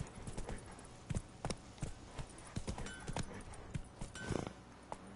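Hoofbeats from a horse in The Witcher 3 video game clip-clop in an uneven trotting rhythm, quiet and close, with scattered game sounds and no talk.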